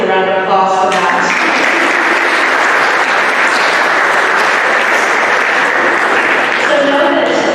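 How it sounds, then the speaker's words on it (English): An audience at a college student government meeting breaks into dense, sustained applause that fills the room, with a voice audible briefly at the start and end. "round of applause for that"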